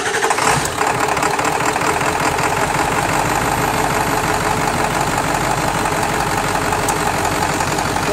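A Ford truck with an automatic transmission cranks briefly and starts, then idles steadily with a loud, close, continuous rumble and no talking.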